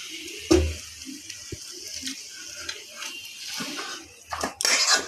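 Kochu shak curry being stirred in a pot with a utensil, soft scraping and clinking knocks scattered through a few seconds, with a sharper metallic clatter near the end.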